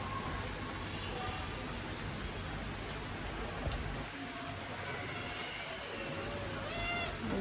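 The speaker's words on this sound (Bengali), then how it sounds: "ভিডিও করতেছি বৃষ্টি, দুপুর টাইমের বৃষ্টি।" Midday rain falls outside a window with a soft, steady hiss of drops on surfaces, faint and continuous, with a few brief sounds that could be a cat.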